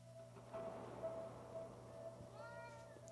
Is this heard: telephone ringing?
no